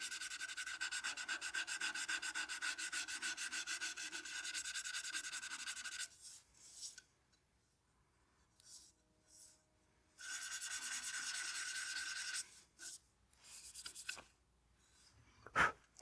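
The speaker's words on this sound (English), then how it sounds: "I'm just going to spot sand this" A turned wooden coin box is spot sanded on a spinning lathe, a steady close rubbing hiss for about six seconds that stops, leaves quiet handling noises, then resumes in a second shorter burst before a sharp knock.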